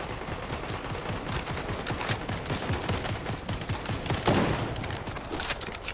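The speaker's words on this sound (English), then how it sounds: "I just got shot at from a different direction." Dense, continuous gunfire in the video game Fortnite, a Zero Build trios match, with rapid overlapping shots and bursts at a steady loud level and one sharper, heavier blast near the middle.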